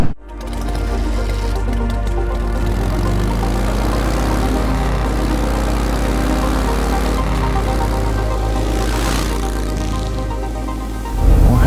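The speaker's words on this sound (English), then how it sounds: "I am on a quick test ride once again on the Honda Hornet 750." Honda Hornet 750 motorcycle on a test ride, its engine droning steadily and loudly throughout with shifting pitch as it accelerates, plus wind rush, and a brief dip near the end.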